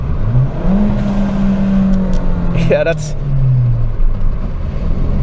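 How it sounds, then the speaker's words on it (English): A fuel-efficient commuter car's engine revs hard beneath a road underpass, the tone rising then holding and falling across several seconds, loud and close, with brief speech over it. "Of course I'm gonna rev it under the underpass"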